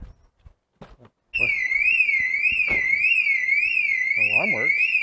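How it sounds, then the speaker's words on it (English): A car alarm wails loudly with a rising and falling siren tone, starting abruptly after a few faint knocks and continuing steadily. "I didn't know I had an alarm"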